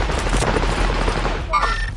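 Rapid, dense gunfire in a video game kill race, a steady rattle of many shots close by that continues throughout with no talk.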